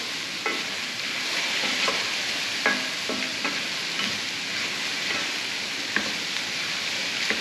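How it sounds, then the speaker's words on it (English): Chopped peppers and garlic sizzle in a hot pan for a wonton filling, with a spoon scraping and stirring at irregular intervals over a steady frying hiss; no one speaks. "I'm stirring all of that up."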